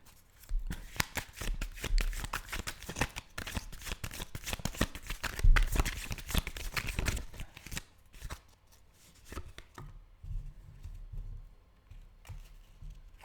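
Tarot cards being shuffled by hand make a dense, close riffling and flicking that runs in quick bursts. The shuffling slows and thins toward the end, with no talking.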